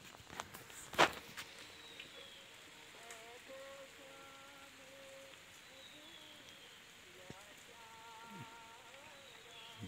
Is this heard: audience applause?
no